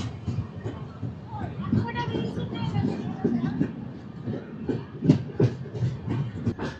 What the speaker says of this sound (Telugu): మన గౌతమి ఎక్స్ప్రెస్ వచ్చేసరికి 7:12కి అయితే స్టార్ట్ అయిపోయింది.